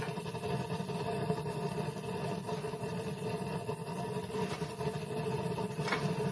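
A homemade waste oil rocket stove burns with a steady, rough, chugging rumble, a continuous low roar with faint rattling and no talking.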